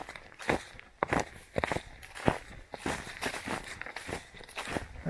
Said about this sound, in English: I probably sound like Bigfoot tromping through these woods